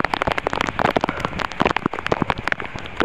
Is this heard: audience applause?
no